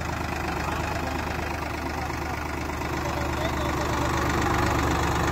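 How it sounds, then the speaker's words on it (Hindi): A Sonalika DI 35 39 HP tractor, 2023 model, drives a KSD 7-foot rotavator through soft soil at high PTO RPM, its engine droning steadily and loud with a continuous churning roar close by, rising slightly toward the end. "DI 35 39 HP वाला ट्रैक्टर है, KSD का 7 फीट का रोटावेटर है, बिल्कुल नरम मिट्टी में चल रहा"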